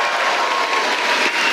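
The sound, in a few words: New York City town hall crowd applauding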